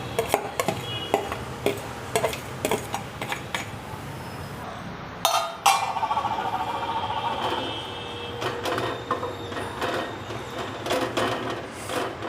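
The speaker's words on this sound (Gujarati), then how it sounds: "હવે આપણે પેન લેશું ને ગેસ ચાલુ કરશું ને એમાં આપણે ડાયરેક્ટ નાખી દેવાનું" Capsicum mixture tipped into a pan on a gas stove for Gujarati khatu shak, a series of sharp clinks and knocks of utensils, then a soft sizzle and stirring scrapes, no talking.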